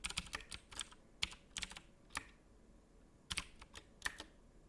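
Typing on a computer keyboard while setting up an Unreal Engine class: irregular clusters of crisp key clicks, several quick strokes then short pauses, close and clear with no talking.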